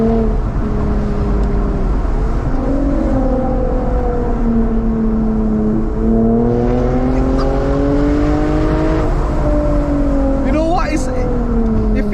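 A 2008 Lexus IS250 V6 engine revs up and down repeatedly to the limiter, its pitch climbing and dropping, while a person talks over it.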